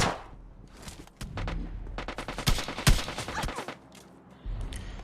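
Rapid automatic gunfire in the mobile battle royale game PUBG Mobile Lite, loud close bursts of rattling shots in several volleys with brief pauses between them, no talking.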